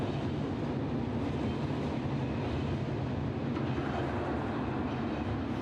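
An SNCF CC 6500 electric locomotive rolls by slowly and steadily with its pantograph lowered, a continuous low rumble with faint rail noise throughout and no voices.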